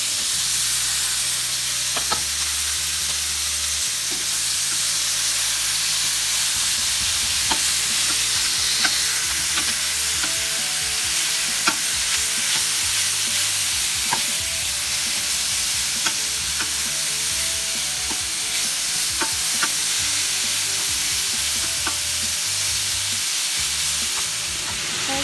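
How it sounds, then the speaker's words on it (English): Chicken sizzles and spits loudly in a hot pan, with bell pepper and onion added, under steady scraping and clinking as it is stirred, continuous throughout with no voices. "And about after a minute of frying up the chicken, I added the bell pepper and onion, and I'm going to just mix it all together."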